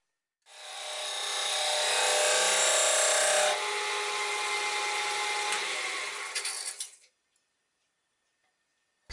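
A wood lathe turns at about 2000 RPM with a chisel cutting the wood. A loud, continuous rasping hiss lasts several seconds, softens midway, then stops abruptly and leaves silence, with no voices.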